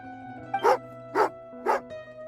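A dog in the video game Genshin Impact gives three evenly spaced barks, clear and fairly close, over a quiet steady game background hum.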